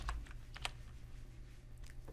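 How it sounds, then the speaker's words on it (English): Quick, light clicks from a physical keyboard hooked up to a mobile phone, typed in short bursts of separate keystrokes, close and fairly quiet over a low steady hum. "my typing becomes very fast because I have my keyboard connected to my mobile phone"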